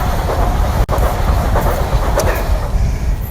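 A train rolls across a bridge track in Stockholm, a steady loud rumble with rhythmic clickety-clack of wheels over rail joints filling the whole stretch, with no talk.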